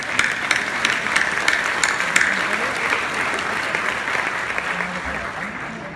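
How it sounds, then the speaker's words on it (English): Hospital event crowd applauding honorees, a dense, loud and continuous burst of many hands clapping that fades slightly toward the end, with faint voices mixed in. "We can clap for them."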